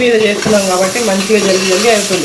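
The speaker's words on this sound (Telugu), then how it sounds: "నెక్స్ట్ అయితే చికెన్ యాడ్ చేసుకుంటున్నాం సో ఇప్పుడైతే మంచిగా మనం మిక్స్ చేసుకుందాం" Country chicken frying in a pan with onions while it is stirred, giving a loud close sizzle with scraping stir strokes and someone talking over it.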